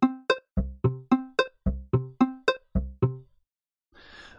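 A plucked, harp-like software instrument in Bitwig plays a quick run of about a dozen dry notes with no reverb, each decaying fast, followed by a short pause and a faint noisy tail.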